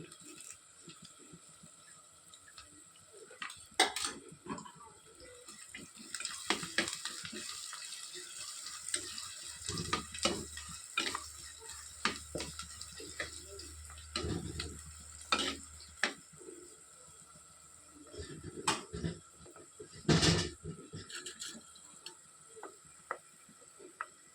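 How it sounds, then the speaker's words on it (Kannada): Food fries in a pan with a steady low sizzle, broken by repeated sharp scrapes and clatters of stirring, close and fairly quiet with no talking. "ಇಲ್ಲಿ ಫ್ರೈ ಆಗ್ತಾ ಉಂಟು"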